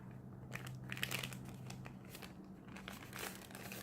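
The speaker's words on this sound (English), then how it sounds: "you'll want to take your lunch sack and fold it in half" Paper lunch sack being folded in half for a pumpkin card craft, a few soft crinkling, crumpling rustles close by over a steady low hum, with no talking.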